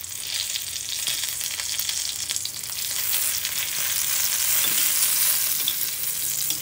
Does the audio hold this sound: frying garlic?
yes